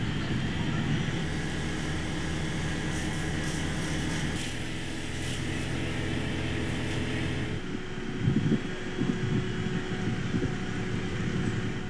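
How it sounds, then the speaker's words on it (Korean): Russian attack drones in a daytime strike on Ukraine fly overhead with a continuous, buzzing propeller-engine drone that holds steady, then drops and thins near the end as some thuds break through. "With over 550 drones, Russia unleashes daytime attack on Ukraine."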